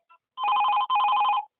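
Two bursts of electronic telephone ringing, near and clear, sound for an incoming call to a Chhattisgarhi song phone-in programme on a Raipur radio station, with a short pause between the rings.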